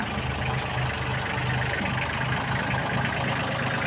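A Kubota GL260 tractor engine idles steadily at close range, a continuous low rumble with an even mechanical drone and no talking.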